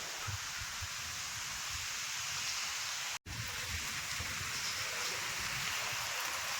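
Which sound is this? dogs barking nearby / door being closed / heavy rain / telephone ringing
heavy rain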